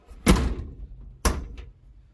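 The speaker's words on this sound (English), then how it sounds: "And let's try the door out, see if it unlocks." Two sharp Suzuki Samurai door thunks about a second apart, the first with a brief rattle of the handle and latch, close and clear in a quiet space.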